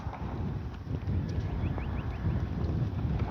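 Wind blowing across an open RC plane flying field, a constant loud rumbling buffet on the microphone with no pauses.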